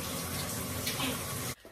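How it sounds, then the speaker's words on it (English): Tap water gushing steadily into a container holding cucumber and lemon slices, a loud close splashing rush that cuts off abruptly at the end. "then you want to fill it up with some water"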